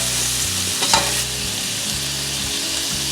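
Onions sautéing in a pan with garlic for a beef stir fry, a loud continuous sizzle with a quick scrape of stirring, close up and without talk.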